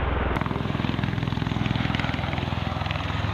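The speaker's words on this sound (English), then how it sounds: "During the transition, the Osprey's crew adjusts the rotor angles and engine settings" A CV-22 Osprey tiltrotor military aircraft shifting between flight modes drones loudly and continuously, its rotors producing a rapid rhythmic thumping beat over a dense engine roar.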